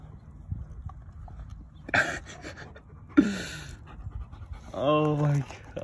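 A dog pants heavily and rapidly up close while eating a raw chicken. The quick, rhythmic breathing runs throughout, broken by a few sharper louder bursts, with people's voices heard alongside.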